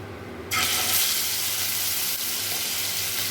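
Hilsa fish pieces lowered into hot oil, bursting after a quiet moment into a loud, close, continuous hiss and sizzle that holds steady to the end.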